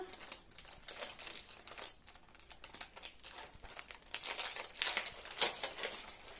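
Crinkling and tearing of plastic packaging around a free eyebrow brush gift, with close, irregular crackles and rustles that grow busier toward the end, and no speech.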